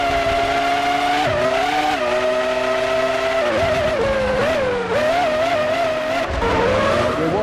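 Formula One race cars at the 2003 Austrian Grand Prix in a racing video game, a Ferrari among them, give a high, continuous engine whine. The pitch rises and dips with gear changes and stays close and steady throughout.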